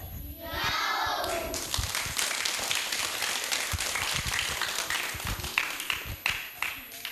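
An audience of schoolchildren at an Indonesian elementary school claps after a student's speech, a dense stretch of hand claps that thins into scattered taps, with children's voices in the background.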